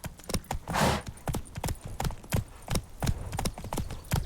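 Horse hooves galloping in Witcher 3 next-gen on PC, a rapid rhythmic clip-clop of repeated sharp hoof strikes, close and clear, with a brief rushing burst near the start.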